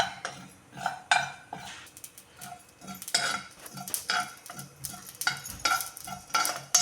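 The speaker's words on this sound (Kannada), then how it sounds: "ಇವಾಗ ಇದನ್ನು ಸ್ವಲ್ಪ ಫ್ರೈ ಮಾಡ್ಕೊಳ್ಳೋಣ" Mustard and cumin seeds fry and crackle in a pan, with a spoon scraping and clinking against the metal in quick irregular stirs, close and fairly quiet.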